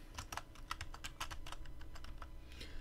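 Code being typed on a computer keyboard for a Unity3D day-night cycle script: a quick, uneven run of close, crisp key clicks across the whole stretch, with no talking.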